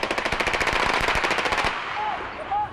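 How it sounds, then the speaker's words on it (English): Rapid bursts of automatic gunfire in a police shootout during a bus hostage crisis rattle off in a fast, steady stream, then cut off, leaving a quieter stretch with faint distant noise. "He eventually exchanged gunfire with police and was shot dead."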